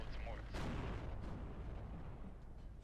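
Artillery firing HE shells in the Steel Division 2 video game, with one sharp, loud blast followed by a rumbling roll of battle noise that fades, and a voice talking over it.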